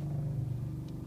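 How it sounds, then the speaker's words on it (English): An RV water pump pressurizing the pipes gives a steady low droning hum with a faint rattle, constant and unbroken through the short moment. "That noise you hear in the background is the water pump pressurizing the pipes."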